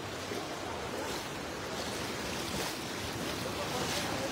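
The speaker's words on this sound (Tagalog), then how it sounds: "Lakas ng current ng tubig" Strong river current rushing steadily at a fishing spot, a dense broadband wash of flowing water with wind buffeting the microphone, continuous and close throughout.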